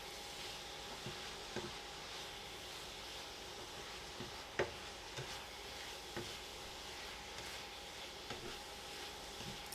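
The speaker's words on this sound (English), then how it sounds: "Give it all a good stir frying again." Food sizzles steadily in a pan while a utensil scrapes and taps now and then, a constant frying hiss underneath.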